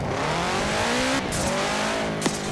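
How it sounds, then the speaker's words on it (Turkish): Subaru Impreza WRX STI engine in Forza Horizon 4 revving up through the gears, loud and close, with a sharp blip and a short tyre squeal near the end. "Araçların sesleri birebir orijinal sanırım."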